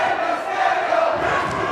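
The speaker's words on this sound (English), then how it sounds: "They're cheering for you" A wrestling arena crowd roars steadily through a Ricochet versus Rey Mysterio match, a dense, loud wall of cheering and shouting that holds for under two seconds without a break.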